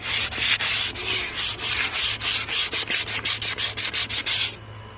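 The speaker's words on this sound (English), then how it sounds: "I'm just going to sand it down smooth, clean it again, and then paint it" Sandpaper rubbed by hand over a painted surface on a bus conversion, stripping old coating: a steady, loud rasping scrub in rapid back-and-forth strokes over a low constant hum, stopping abruptly near the end.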